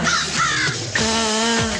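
Harsh crow caws repeat close by, a few drawn-out calls over steady background music with a voice singing, at a wedding.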